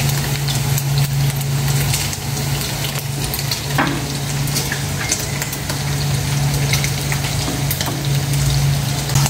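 Pork sautés in a pan for a Filipino stir-fried tofu and pork dish with oyster sauce, a steady close sizzle over a low hum, with occasional faint clinks and no talking.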